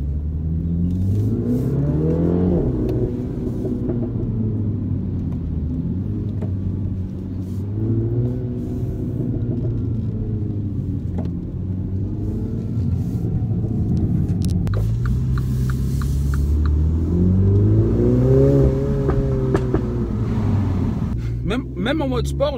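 A Mini Clubman JCW engine revs up and down repeatedly, rising and falling in pitch through a fairly quiet exhaust, with a voice talking over it.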